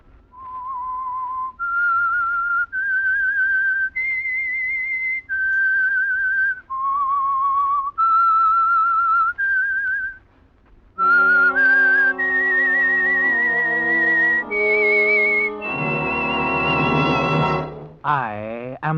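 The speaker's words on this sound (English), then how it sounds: "That whistle is your signal for the Signal Oil Program" Theme tune of the radio mystery show The Whistler, whistled alone as a slow, clear melody of sustained notes for about ten seconds, then taken up by a full orchestra that swells to a close.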